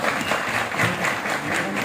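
Strong, steady applause from an audience at a school parents' meeting, honouring the dignitaries, the dense clapping sustained evenly throughout at close range.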